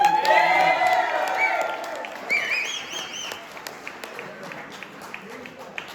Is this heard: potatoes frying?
no